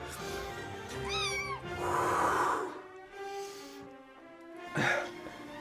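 A cat meows several times up close, with rising and falling drawn-out calls and breathy snorts between them, fairly loud and with no talk over it.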